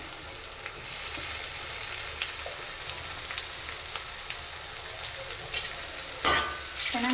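Tomato roasting with softened onions in a hot pan gives a steady sizzle and fry hiss, with a few light stirring scrapes near the end.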